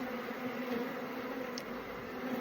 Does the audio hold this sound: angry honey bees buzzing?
yes